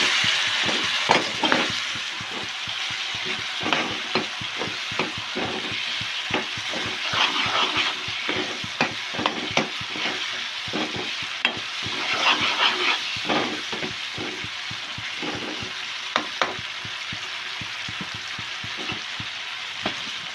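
Boiled chickpeas sizzle in a thick masala in a pan for Delhi-style chole, with loud crackling frying and a steady series of spoon scrapes and stirring knocks, with no talking.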